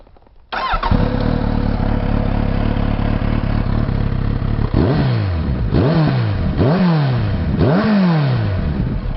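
Kawasaki Z900RS motorcycle engine starting, then idling steadily up close with a deep, smooth, muffled tone, followed by several quick throttle blips that rise and fall in a repeating rhythm, no talking.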